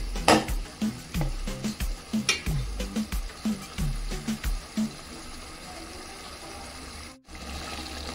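Chicken curry for biryani simmers in a pot while a spoon stirs it in steady, scraping strokes with a wet, bubbling sizzle underneath; the stirring halts near the end, leaving a brief quiet before the cooking noise resumes.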